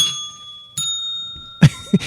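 A small bell in a bar is struck twice, each ring clear and ringing on with sustained tones, followed by some faint thumps and a cough-like sound.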